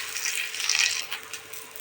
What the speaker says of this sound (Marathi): तुम्हाला ठेचा त्या असं भाजून घ्यायचं व्यवस्थित